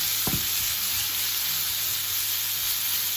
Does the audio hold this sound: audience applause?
no